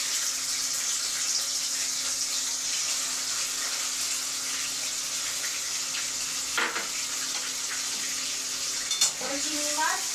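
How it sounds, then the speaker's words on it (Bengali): Prawns sizzle steadily in half a cup of hot mustard oil, a constant hissing fry throughout with a couple of brief clinks of a utensil near the end. "চিংড়ি মাছগুলো এবার তেলের মধ্যে ভেজে নেব"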